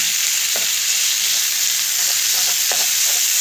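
Minced sacrificial meat frying in oil for Uzbek manti, a loud dense hissing sizzle close up with a few soft scrapes of stirring.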